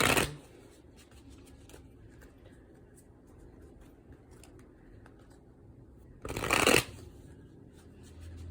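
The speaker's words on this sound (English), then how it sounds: "And I'll go ahead and start shuffling here." Two brisk bursts of shuffling a Tarot of a Moon Garden card deck, one at the start and another a few seconds later, with quiet rustling and handling in between, close to the microphone.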